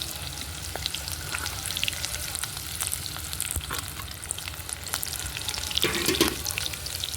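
Tempering of mustard seeds, onions and curry leaves crackles and sizzles steadily in oil over a wood-fired stove, a continuous close frying hiss with occasional pops and a brief stir near the end.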